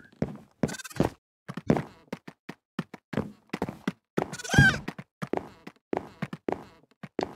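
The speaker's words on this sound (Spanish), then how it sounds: "Acá hay otra cabra." A goat bleats once in a short wavering cry amid a busy run of sharp clicks and thumping footsteps in a video game, all close and fairly quiet.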